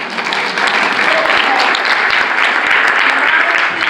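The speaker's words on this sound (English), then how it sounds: "let's give a round of applause" An audience at an Alexandria Ocasio-Cortez listening party breaks into sustained applause, a dense, even wash of many clapping hands that swells and holds steadily throughout.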